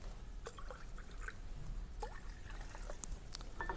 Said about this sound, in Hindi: पानी मैंने पूरा डाल दिया है लगभग